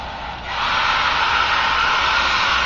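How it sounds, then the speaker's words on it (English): A hair dryer blasts a semi-dry coat on a foam helmet, switching on after a brief pause and holding a loud, even rushing hiss to the end. "I just hit it with a hair dryer"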